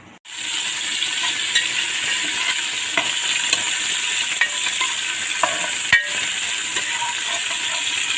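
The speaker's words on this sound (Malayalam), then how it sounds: "നമ്മൾ അരിഞ്ഞു വെച്ച ചെറിയ ഉള്ളിയും ഇഞ്ചി കുറച്ച് കറിവേപ്പിലയും അതും കൂടി ഇട്ടിട്ട് നന്നായിട്ട് ഇളക്കാം" Chopped shallots, ginger and curry leaves frying in coconut oil give a loud, even sizzle from start to finish, dotted with occasional light clinks and scrapes as they are stirred, with no voices.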